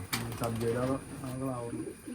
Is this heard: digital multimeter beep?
no